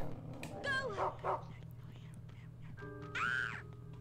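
Dog sounds from the video game Rule of Rose, quiet yips and whimpers in short bursts with soft whispery voices and a low droning music bed underneath.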